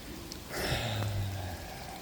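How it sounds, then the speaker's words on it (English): Heavy rain from a cyclone falls on a bush encampment, a steady broadband patter that swells briefly with a low droning rumble, moderately loud and without voices. "More heavy rain and winds are to be expected"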